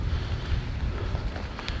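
Strong wind blows outdoors on a bowhunting outing, buffeting the microphone with steady low rumbling gusts and no other distinct sounds.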